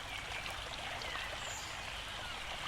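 Shallow river water runs steadily around flat boulders, making a continuous close babbling hiss without a break.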